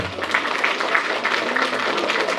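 Audience applause at a kids' awards show, a steady wash of many hands clapping together for a couple of seconds with no voices over it.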